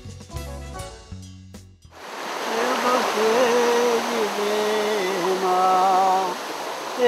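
The Santa Maria river rushing and foaming through narrow straits between mountains, a steady broad roar of water with a tonal voice or melody running over it, after a brief musical opening.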